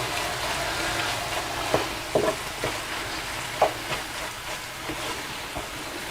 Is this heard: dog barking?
no